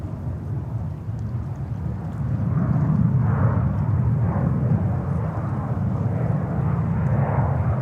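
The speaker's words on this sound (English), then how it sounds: "We can capture here the landing of Cathay Pacific 777-300 from Hong Kong." A Cathay Pacific Boeing 777-300 from Hong Kong lands at JFK, its deep engine roar swelling and then holding as a broad rumble across the airfield.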